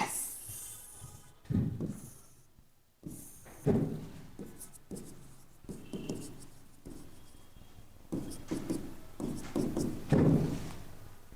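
Marker or chalk writes notes on a classroom board in bursts of scratchy strokes and taps, close and fairly quiet, separated by short pauses.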